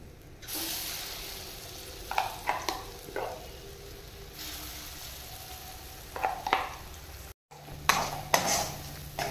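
Ground chana dal paste fries in hot oil in a pan, giving a soft continuous sizzle broken by scraping stirs and a few clinks of a utensil against the pan.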